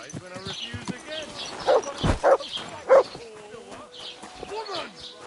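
Barks from a dog in the medieval role-playing game Kingdom Come: Deliverance 2, three short yaps in a row over a busy game soundscape with talking voices and other ambient noise.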